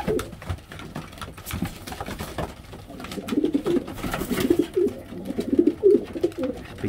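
Pigeons coo repeatedly in a breeding loft, soft throaty calls that grow busier in the second half over light rustling and shuffling, close by and with no speech.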